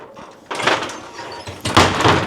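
A hotel wardrobe's sliding door at The Park Tower Knightsbridge pushed along its track and slamming shut, a rolling rumble followed by a loud close thud, near and brief.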